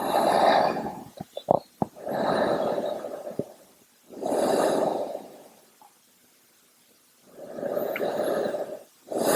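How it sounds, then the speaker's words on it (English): Slow, deep breathing during a yoga flow, four long airy exhales spaced evenly with quiet pauses between, close and soft with a few small clicks. "Take a few nice deep breaths. Elongating those exhales."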